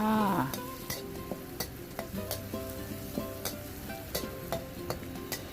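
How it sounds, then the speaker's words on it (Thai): Dried chilies and garlic sizzle and fry steadily in a hot pan, with repeated scraping clicks of a utensil stirring at a regular pace, close up. "พริกแห้งกระเทียม ใส่กระทะไปก่อน ผัดไปเลยค่ะ"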